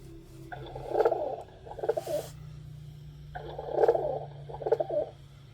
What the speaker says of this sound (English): I've got two of my pigeons in here.